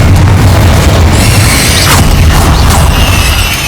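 A Confringo blasting spell detonates in Hogwarts Legacy, giving a loud, sustained booming roar with heavy low rumble, followed by crackling bursts and fiery debris.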